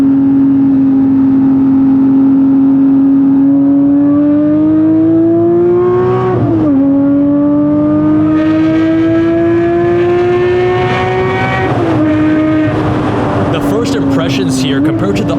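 Porsche Cayman GT4 with a manual gearbox on a race track, its engine note loud and steady, with clear drops as it downshifts and blips back up through corners. An onboard, close-up perspective.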